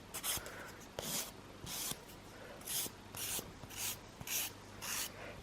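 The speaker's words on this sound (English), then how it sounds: "just make sure that your file is only on the gel." Gel being filed off a fingernail with a nail file in repeated back-and-forth rasping strokes, about ten short bursts in a steady rhythm, close and fairly quiet with no talking.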